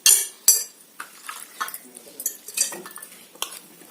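Small items clink and clatter into a glass bowl, with a few sharp, close knocks at the start followed by lighter, scattered taps.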